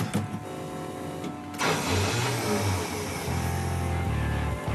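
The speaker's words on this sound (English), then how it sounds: "And we'll crank it, see what happens." Car engine cranking with a starter whir, then catching and settling into a steady idle, close and fairly loud throughout.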